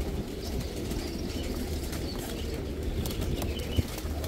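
Pigeons flap their wings and coo softly among cages at the Malhani pigeon market in Kadhimiya, Baghdad. The flutters and low bird sounds are close and fairly quiet, over a constant murmur of market background noise.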